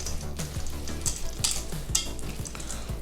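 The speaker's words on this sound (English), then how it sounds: "Just gonna mix that in together, get a nice, good mixture." Vegan purple sweet potato cookie dough with white chocolate chips is mixed in a bowl, producing close, soft, repeated sticky squelches and scrapes in an uneven rhythm, with a few faint utensil taps.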